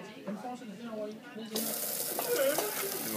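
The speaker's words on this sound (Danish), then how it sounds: "Det er vores vandpumpe." A water pump runs in a school combustion experiment, pushing a steady, broad rush of flowing water that begins abruptly midway and continues loudly, while a person talks over it.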